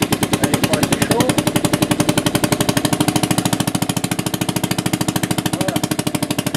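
Conord F1 single-cylinder engine running under a braking load while its governor holds the speed, a loud, fast, even series of chugging beats with steady rhythm and a faint voice in the background.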